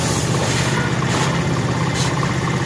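A Honda CD70 motorcycle engine runs close by as its carburetor mixture is adjusted, a steady, loud idle-to-raised-rev drone with rough pulsing and no talk over it.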